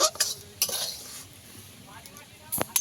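A spoon scrapes and stirs in a karai while making semolina and vermicelli ice cream, giving a few sharp metallic clinks and scrapes near the start and end, with a soft faint sizzle between them.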